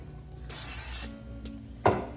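Olive oil spray can spritzing into a bowl: a steady hiss lasting about half a second, followed later by a brief sharp clatter, close and fairly quiet.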